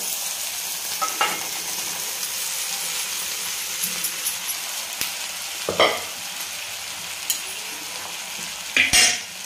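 Sago pearls stirred into a frying pan with softened potatoes and tomatoes: a steady sizzle runs throughout, and a spoon scrapes and clatters against the pan in occasional sharp strokes, near and clear, with no voices.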